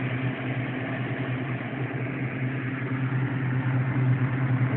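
A homemade redneck air conditioner, plugged into mains electricity instead of solar, blows steadily with a constant low motor hum and broadband airy whoosh, close and unchanging throughout.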